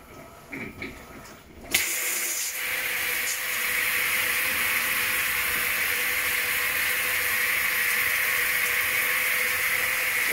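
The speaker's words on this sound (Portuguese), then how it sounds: "A válvula de água fria agora enche aqui." Cold water rushing into an Electrolux LEC14 washing machine through its inlet valve, a steady loud hiss that starts abruptly after a few clicks and continues unbroken.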